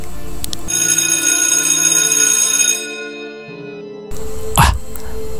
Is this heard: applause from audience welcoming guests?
no